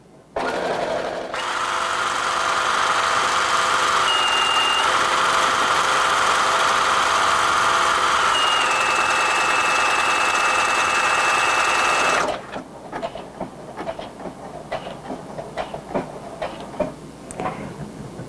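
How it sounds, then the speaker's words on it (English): A Brother NV950 sewing machine stitches a one-step buttonhole, a loud, steady close-up hum with rapid needle rattle that runs for about eleven seconds, then stops, leaving faint clicks and handling sounds. "now all I have to do is sew"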